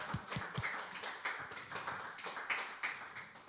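A congregation claps at a Friday worship service in a Busan church, starting with a few sharp distinct claps and then settling into looser, scattered clapping heard from some distance.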